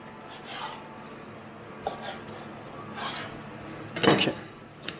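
A scraper drags and taps through fougasse dough on a work surface, cutting it into three pieces: soft rasping strokes with light knocks, ending in a brief louder scrape.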